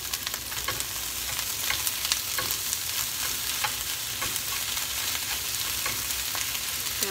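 Beef frying with sautéed onions in a pan for a slow-cooker spaghetti sauce, a steady, dense sizzle with faint stirring scrapes running evenly throughout, no voices.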